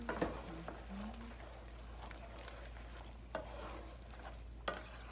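Chicken feet adobo being stirred in a pan, with soft scraping and sizzling strokes near the start and a few sharper utensil knocks later, faint and close over a low steady hum.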